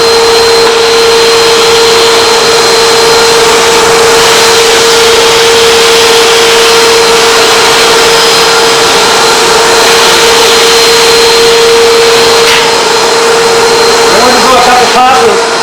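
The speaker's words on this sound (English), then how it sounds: "A couple passes with the bucket." A concrete floor grinder with a grinder bucket runs during floor preparation before an epoxy coating. It makes a loud, close, steady droning whine that holds unbroken from start to finish.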